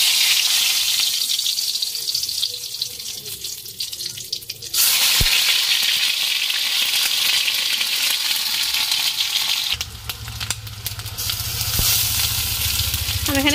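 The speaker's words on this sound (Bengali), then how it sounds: "তেলটাও গরম হয়ে গেছে। এখানে এক একে সমস্ত মশলা দিয়ে দেবো।" Spices dropped one after another into hot oil in a kadai while cooking ghugni, a steady loud sizzle that flares up suddenly partway through and keeps hissing continuously near the pan.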